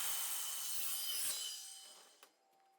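A saw cuts through a full 4 by 8 foot sheet of plywood, a steady rasping whine that holds close and loud for over a second, then fades out with a small knock near the end.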